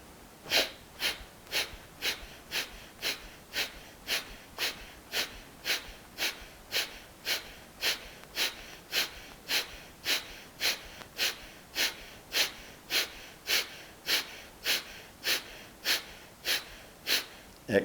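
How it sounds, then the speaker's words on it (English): Rapid, forceful Kapalabhati yoga breathing, a quick diaphragmatic skull-shining breath: about thirty sharp nasal exhalation bursts in a steady, even rhythm, close and fairly loud with no talking. "we'll do a few rounds of Kapalabhati, skull shining breath, rapid diaphragmatic breathing"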